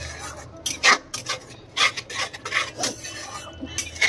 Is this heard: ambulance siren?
no